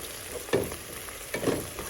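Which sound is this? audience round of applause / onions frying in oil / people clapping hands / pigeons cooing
onions frying in oil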